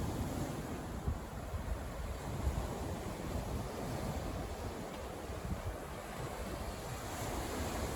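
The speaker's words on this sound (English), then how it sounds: "You get all them stones mixed up in the surf, and it's just like a cutting mill." Sea surf churns stones along the shore at Kilnsea, a steady broadband wash of breaking waves with rough grinding texture, mixed with wind buffeting the microphone, and no voices.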